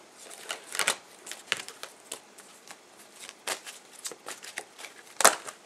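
Tarot cards being shuffled by hand close up, a rapid series of crisp riffling and slapping bursts with short pauses between them and a sharp louder flick near the end, with no voices.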